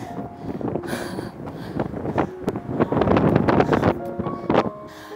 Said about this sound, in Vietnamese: Gió quá là gió, mình cầm cái camera mà nó cũng rung bần bật luôn ở trong tay mình luôn.